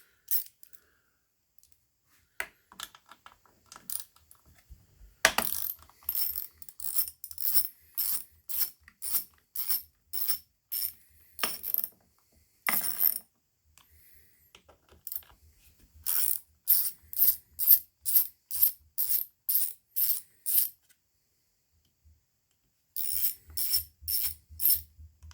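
A ratchet wrench loosens the 8mm bolts on a Poulan 2050 chainsaw during carburetor removal, with close, rapid bursts of clicking separated by short pauses.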